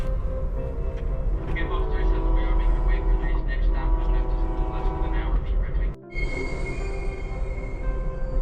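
Amtrak Empire Builder passenger train heard from inside a carriage on the Seattle to Chicago run, a loud continuous rumble and clatter with a brief dip partway through, someone speaking over it.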